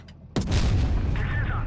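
A tank cannon in World of Tanks Blitz fires once with a sudden loud boom, then a rumbling tail and a brief metallic ring as it decays.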